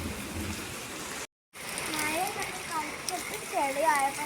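Steady monsoon rain pours down on a muddy path, a dense hiss interrupted by a brief silent gap. Children's voices chatter over it.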